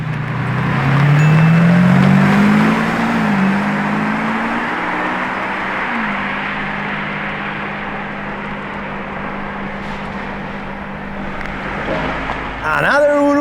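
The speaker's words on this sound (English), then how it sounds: "Hybrid V12 time." Lamborghini hybrid V12 engine revving up, a loud rising tone climbing over the first few seconds and then holding steady at high revs, with a brief burst of further revving near the end.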